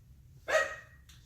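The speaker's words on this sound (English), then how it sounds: "Just ignore the background noise of my dog." A dog barks once in the background, a short moderately loud bark followed by a fainter trailing yelp, with quiet rain-like background noise and no talking.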